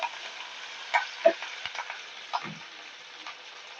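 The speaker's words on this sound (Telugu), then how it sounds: "కొంచెం కరివేపాకు తాలింపు." Curry leaves are tempered in hot oil for a tomato roti pachadi, sizzling and frying with a steady crackle and a few sharper pops and spatters, close by and without speech.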